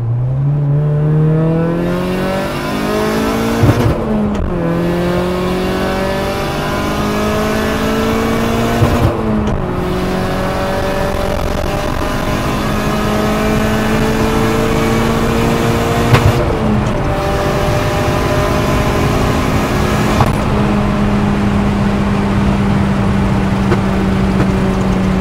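A Nissan S13 engine revs loudly and repeatedly, climbing in pitch and dropping back several times with sharp pops and crackles between pulls, up close; the popping comes from the car's very low compression.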